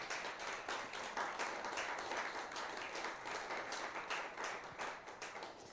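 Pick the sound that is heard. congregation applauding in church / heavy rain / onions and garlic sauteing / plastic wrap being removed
congregation applauding in church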